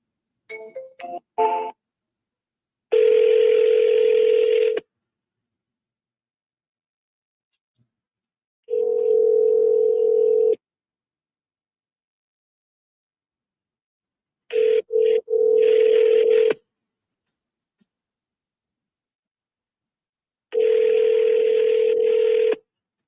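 Landline telephone handset sounds: a short run of touch-tone dialing beeps, then a steady dial tone that sounds in repeated two-second stretches with silent gaps and brief clicks between them, loud and clear with no voices.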